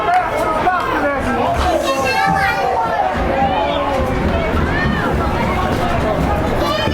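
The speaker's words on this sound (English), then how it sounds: "We got a big crowd here, and they are into it." A big crowd at a boys lacrosse playoff game makes a loud, steady roar of chatter and shouting, with overlapping voices of people talking close by throughout.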